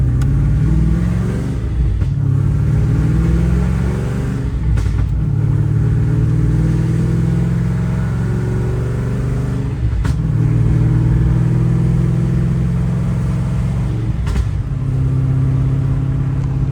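An old car with a stiff clutch drives along a road, its engine droning steadily up close with several brief breaks and surges where gears are shifted, no talking.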